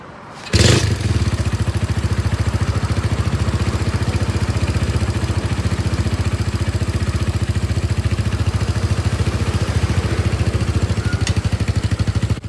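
A small Honda Sonic motorcycle engine, bored from 125cc to 143cc, starts with a sharp burst and then runs steadily at a rapid, even idle, loud and close throughout.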